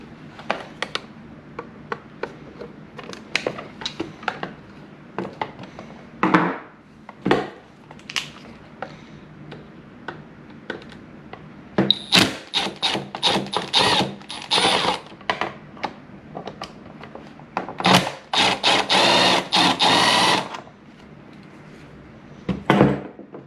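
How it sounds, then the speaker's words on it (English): Scattered clicks, scrapes and ratchety mechanical bursts as screws and nuts are worked out of a Hyundai Genesis side mirror, close and intermittent, growing busier and denser toward the end. "So the next thing we're going to do is remove these 2 screws."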